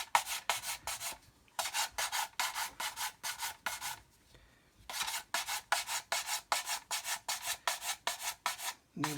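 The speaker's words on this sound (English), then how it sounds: "I'm just going to lightly sand over this seam." Rhythmic back-and-forth scrubbing of 400 grit sandpaper lightly smoothing a glued seam on a plastic model kit, in quick regular strokes with a brief pause midway. Close and crisp, with no talking.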